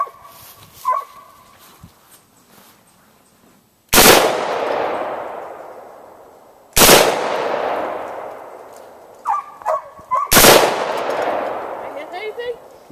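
Three loud outdoor gunshots fired at pumpkins during a Halloween shootout, each sharp crack trailing off in a long echoing decay, with faint voices and small clanks between shots.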